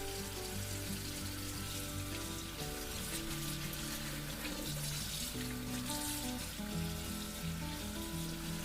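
Leeks rinsed under running water in a kitchen sink, a steady splashing stream with faint clatter underneath, close and fairly quiet throughout, no voices.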